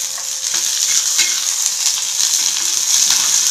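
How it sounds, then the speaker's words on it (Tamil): Raw peanuts frying in hot oil for peanut chutney, giving a steady, loud, close sizzle with faint scraping stirs throughout and no talk. "வேர்க்கடலை வந்து வறுப்பு கிடச்சி ஃப்ரை ஆகிடுது."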